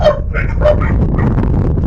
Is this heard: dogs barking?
yes